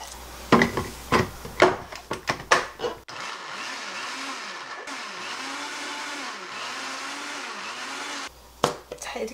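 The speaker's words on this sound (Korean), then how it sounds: "그리고는 이제 믹서기 넣고요 돌려주는데요" A blender grinds mugwort with water, roaring steadily for about five seconds, its motor pitch wavering as contents churn, preceded and followed by brief clatter and knocking.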